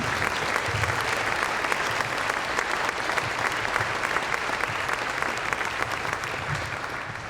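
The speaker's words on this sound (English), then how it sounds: "a round of applause from the University of Houston" A luncheon crowd at a Southwest Conference Hall of Fame ceremony applauds a University of Houston tennis inductee with thick, continuous clapping that holds steady, then tapers slightly at the end.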